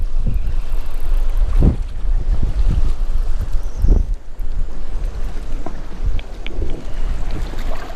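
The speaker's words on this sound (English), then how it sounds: "it's getting a little stupid windy" Strong gusting wind on a fishing boat on Lake Sakakawea, loud and sustained, with heavy low-frequency buffeting of the microphone and repeated thumping gusts over a constant rushing roar, with no one speaking.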